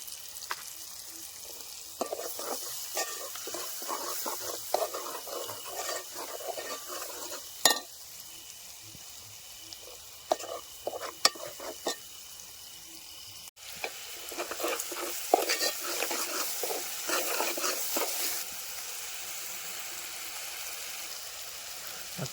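Spices frying and sizzling in a pan for chicken tempering at a cold forest campsite, with steady crackling and repeated stirring scrapes, plus a brief metallic clink of a utensil partway through; no talking.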